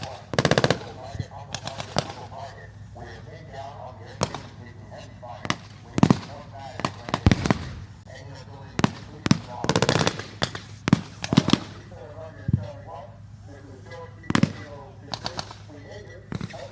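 Gunfire from gunners at a tank weekend event rings out in loud, sharp bursts and single cracks spread across the stretch, with irregular spacing and a steady low hum underneath.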